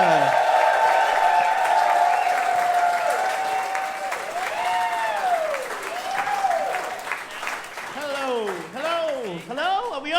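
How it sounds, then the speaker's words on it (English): A live comedy podcast audience breaks into a big round of applause and cheers for two guests, loud and sustained, with voices calling out over the clapping throughout. "Could you please give them a big round of applause now?"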